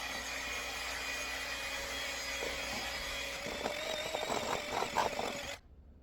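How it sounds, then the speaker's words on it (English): Electric hand mixer whirring steadily as it beats thick cake batter, with a broad motor drone that turns rougher and choppier near the end before cutting off abruptly into silence. "I haven't used a hand mixer in so long"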